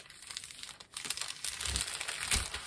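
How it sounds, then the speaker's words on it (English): Paper sewing pattern pieces crinkle and rustle close by as they are handled and moved, a steady run of soft crackling with a sharper burst near the end. "sorry about all the crinkling"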